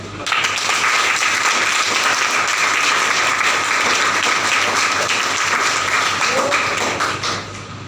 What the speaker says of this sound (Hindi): एक बार तालियां बजा के।